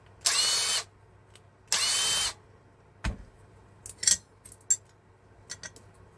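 A power screwdriver removes MOSFETs from a circuit board, with two short, loud whirring bursts followed by a few light clicks and clatters of small parts nearby.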